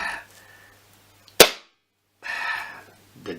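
A Falcon air pistol fires once with its silencer removed, a single sharp, loud crack that stands alone between faint background noise and brief murmurs.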